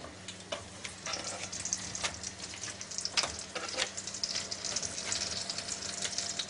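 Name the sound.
endives frying in melted butter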